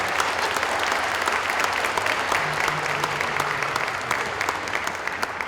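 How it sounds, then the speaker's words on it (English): Dense, steady round of applause from an audience at a panel discussion, sustained and even throughout with no voices standing out. "Give Keith a round of applause, because he's really phenomenal."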